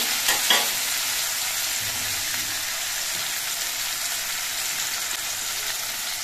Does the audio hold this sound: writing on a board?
no